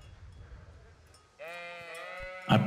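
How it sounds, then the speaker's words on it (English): Sheep bleat in the medieval open-world game Kingdom Come: Deliverance, a long wavering bleat following a quiet ambient stretch, then a brief louder bleat at the end, fairly close. "Some sheep."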